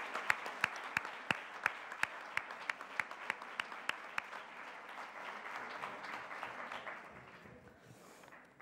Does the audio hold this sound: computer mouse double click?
no